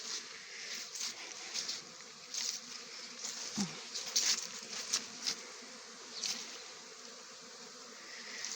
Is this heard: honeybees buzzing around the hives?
yes